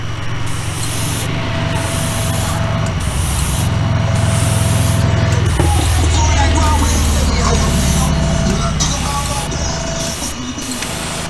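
Candy apple red paint sprays in light tack coats onto a custom diecast 1955 Bel Air gasser, a steady close hiss running almost without a break under a low background hum.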